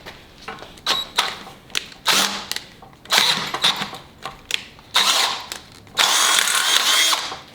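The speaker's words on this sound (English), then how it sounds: "I'm gonna drill it out and we can bolt our rack on." A power drill drilling out bolt holes for a rack in a Miata engine install whirs in short bursts with pauses between, close by, ending with a longer sustained grinding run.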